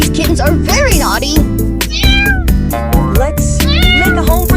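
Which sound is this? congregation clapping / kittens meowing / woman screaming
kittens meowing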